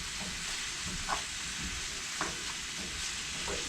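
Beef browning in a pan on the stove for chili, a faint continuous sizzle with a few soft scraping stirs, close-up and quiet with no voices.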